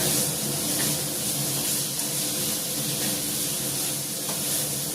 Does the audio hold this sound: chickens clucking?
no